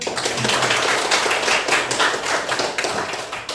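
A group claps together after a presentation by a student team in a biology teacher-training classroom, a steady dense patter of handclaps filling the whole stretch at moderate loudness, with no voices over it.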